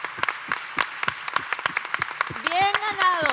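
Audience applause at a film festival panel on women in cinema: a short burst of sharp, quick claps from a crowd, with a voice rising over them near the end.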